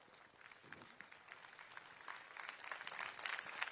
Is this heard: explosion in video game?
no